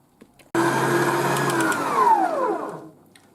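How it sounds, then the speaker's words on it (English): Electric stand mixer whisking rum baba dough, a steady loud motor whir that starts abruptly and holds for a few seconds, its pitch sagging toward the end as it winds down. "Scrape the sides and whisk until it comes together for about 5 minutes."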